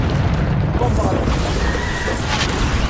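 A Bombarda explosion spell in Hogwarts Legacy gives a heavy, rumbling boom that stays loud and dense throughout, with a voice talking over it.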